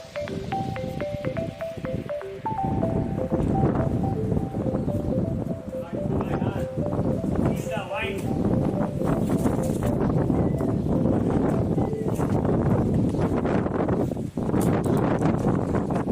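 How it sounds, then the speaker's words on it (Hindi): Strong wind gusting in the Thar desert near Pokhran, Rajasthan, roaring steadily and close against the microphone for the whole stretch, with someone talking over it at times. "अरे वाह यार, क्या हवा चल रही है।"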